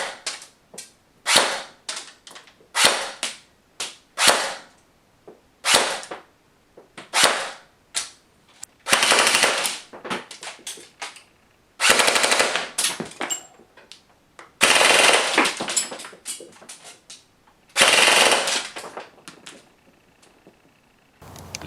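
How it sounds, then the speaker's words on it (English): VFC VR16 Tactical Elite 2 airsoft AEG fired over a chronograph on 7.4 and 11.1 volt LiPo batteries, single shots and short full-auto bursts with mechanical clatter, close and loud, separated by brief pauses. "Now let's go ahead and chrono the VFC VR16 Tactical Elite 2 and see what it's hitting."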